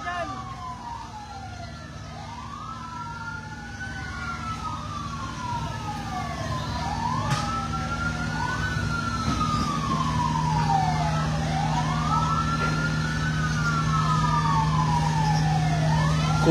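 Fire truck siren at a residential compound fire in Las Piñas City, Philippines, wailing in long rising and falling sweeps over a steady engine rumble, loud and continuous throughout.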